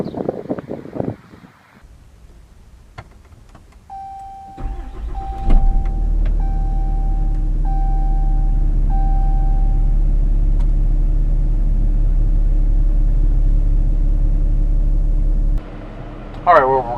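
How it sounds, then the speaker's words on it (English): A 2013 Ram 3500 Laramie Longhorn diesel truck starts a test drive. A door chime and clicks give way to a loud, steady low diesel rumble that holds for about ten seconds before dropping off. "we're just going to do a brief test drive of this vehicle"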